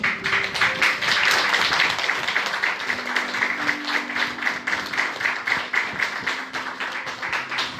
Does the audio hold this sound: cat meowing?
no